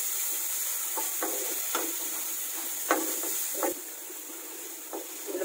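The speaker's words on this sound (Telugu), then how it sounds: "ఉల్లిపాయలు బాగా వేగాలండి." Onions fry in a pan over a medium flame, giving a steady soft sizzle broken by repeated scraping stirs and light clinks, close and fairly quiet.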